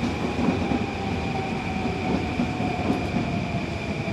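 Steady rumble of a Long Island Rail Road commuter train at Woodside station, with a constant whine and low rolling noise throughout, close and continuous, no talking.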